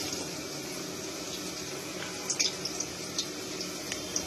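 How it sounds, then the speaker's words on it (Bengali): Chopped onions, five medium ones, frying in hot oil in a pan for a chicken dish, with a steady soft sizzle and scattered small pops and crackles, close and fairly quiet with no talking. "আমি পেঁয়াজ কুচিগুলো ভেজে নেব।"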